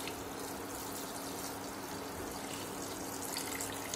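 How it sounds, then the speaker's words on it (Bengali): Water poured over beef in a pressure cooker, a steady, faint rushing stream of liquid with a soft filling sound and a low hum beneath, continuous throughout. "এই মাংসগুলোকে আমরা পানি দিয়ে ডুবাই দিই, পানি দিয়ে একটু ডুবাই দিই"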